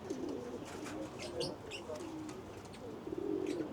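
Racing pigeons coo softly in a loft, low repeated burbling calls with a few faint chirps over a steady background hum.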